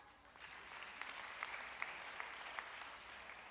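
A church congregation applauds in praise of God, a steady, fairly faint round of many hands clapping throughout.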